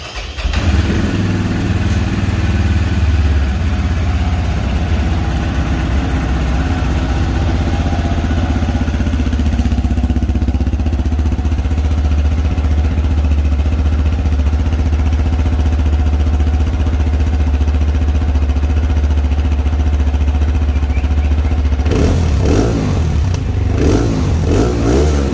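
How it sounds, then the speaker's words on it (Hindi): A Road Prince RX3 touring motorcycle starts up and idles loudly close by, a steady throbbing drone lasting over twenty seconds before a few blips of the throttle near the end; nobody speaks. "बाइक स्टार्ट करते हैं और साउंड चेक करवाते हैं आपको"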